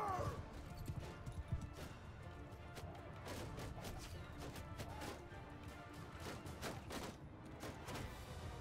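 Horses gallop through a Bannerlord video game battle, with rapid rhythmic hoofbeats and scattered clashing impacts mixed together in a busy, fairly faint melee, while a voice talks intermittently over it.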